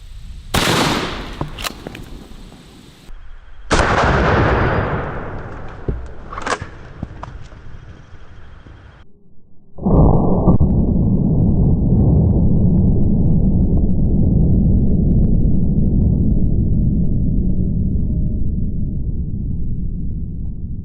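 Loud shotgun blasts firing hollow point slugs into watermelons outdoors: several sharp reports with splattering in the first half, then a long, steady, loud broadband roar that fills the rest.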